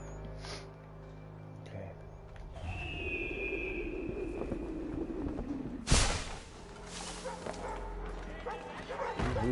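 Dog barking in the video game Assassin's Creed 3, a short bark and whimpering yips at mid distance over a busy game ambience with speech nearby.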